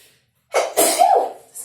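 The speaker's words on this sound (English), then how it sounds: "I feel like I'm going to sneeze." A single close, sharp sneeze with a quick breathy intake and burst, followed by a short exhale, during a postnatal restorative yoga session indoors.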